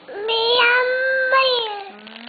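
A voice imitates a cat, drawing out one long, clear, tonal meow that rises and then falls, close and fairly loud.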